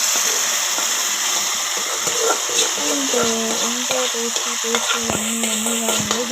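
Gongura chutney tipped into hot oil with fried dried red chillies and garlic, a steady close sizzle and frying hiss carrying on throughout with stirring scrapes, no voices.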